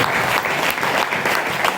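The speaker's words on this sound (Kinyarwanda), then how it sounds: "Mufashe kumukomera amashyi n'umuryango we ndetse n'itorero." A church congregation claps loudly and continuously for a pastor and his family, a dense, even wash of applause from a large crowd throughout.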